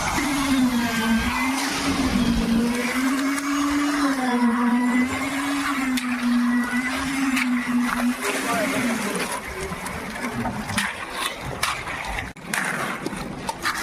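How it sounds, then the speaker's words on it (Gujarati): A concrete vibrator compacts wet concrete for a house roof slab at a village building site, giving a loud, steady motor whine that wavers slightly in pitch over rough mixing noise before thinning out toward the end. "કાકરી અંદર હલી જાય પિંજરેમાં એટલે વાઇબ્રેટર આવે"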